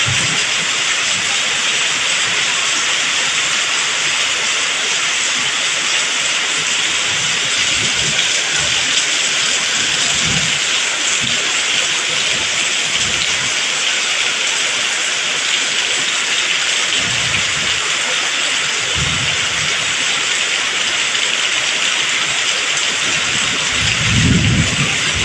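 Steady heavy rain from a tropical storm in Thailand pours down as a continuous broadband hiss, with occasional low rumbles rolling beneath it and no voices.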